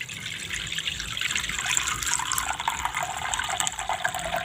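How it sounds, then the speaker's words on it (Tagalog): Water pours steadily into a cooking pot for a Filipino vegetable soup, a continuous close splashing fill that brightens slightly as the level rises, with no talking. "Maglagay na tayo guys ng tubig."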